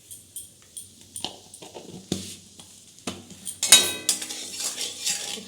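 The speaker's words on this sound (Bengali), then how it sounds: "একটু নেড়ে নেব," A spoon scrapes and clinks against a metal pot while salt and turmeric are stirred into oil, in irregular close knocks and rattles, with a faint sizzle underneath and no talking.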